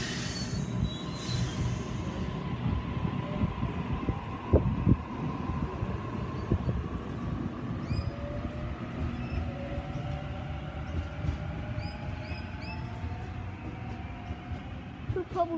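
Train wheels squeal and rumble as a departing train's railcars roll slowly past nearby at a station platform in Padstow, with a steady low drone and intermittent high screeches.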